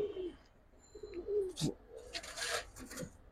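A pigeon coos at close range, soft throaty calls repeating through a few seconds over faint background rustle and scattered higher chirps.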